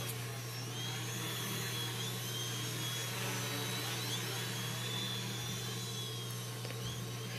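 Small experimental tricopter with a tilting front motor flying spins in a garden, its electric motors giving a steady, continuous whine and buzz with a constant low hum, close and fairly loud throughout.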